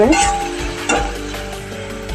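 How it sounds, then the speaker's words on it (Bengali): Diced potatoes fry in hot oil with browned onions for a spicy semolina (suji) breakfast, giving a steady close sizzle with light stirring that stays loud and even throughout. "আলুটা একটু ভাজা ভাজা হয়ে আসছে"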